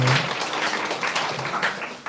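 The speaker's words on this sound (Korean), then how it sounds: "주님께 박수 영광 돌리겠습니다." Church congregation clapping in praise at the close of a Sunday service inviting neighbours, a dense steady roar of many hands filling the room, fairly loud and sustained with no break.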